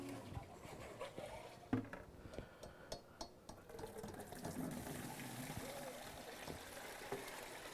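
Water rinses through a water ice machine, a faint continuous running and splashing flow with small knocks, heard close and quiet without speech.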